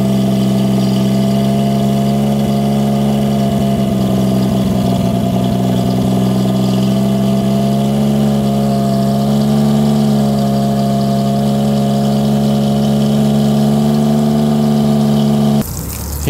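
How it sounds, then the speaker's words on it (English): A Yamaha 40 hp four-stroke outboard motor runs steadily at a constant idle after carburetor cleaning and balancing, a loud, even hum with a slight throbbing, cutting off abruptly near the end. "I'm gonna start up the engine."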